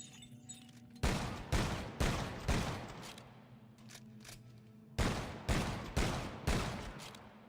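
Gunfire from a weapon in the Dead Space 3 video game: a short burst of shots near 1 s, then two bursts of repeated loud blasts, three to four in each, with a quieter stretch between them that may hold the reload.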